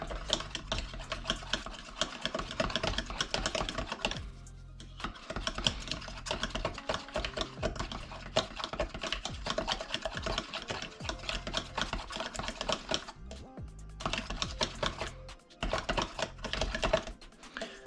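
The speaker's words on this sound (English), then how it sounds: "Now, I'm going to go ahead and whisk the eggs here." Eggs whisked in a bowl for scrambled eggs, a steady rapid clicking and tapping of the whisk against the bowl that runs almost continuously, with a couple of brief pauses, fairly close and moderately loud.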